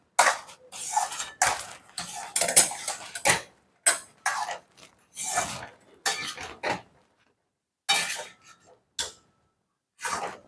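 A spoon scrapes and clatters in a pan as mor kali dough is stirred over low heat, in scattered short bursts separated by near silence.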